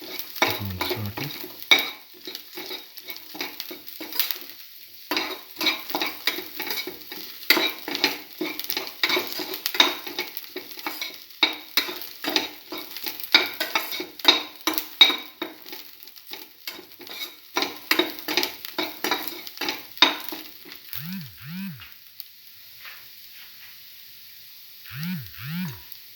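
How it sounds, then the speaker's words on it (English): Beef liver sautéing in a pan, a steady close sizzle broken by repeated scraping and clinking stirring strokes, with the rhythm thinning out toward the end and a few isolated knocks. "Again saute."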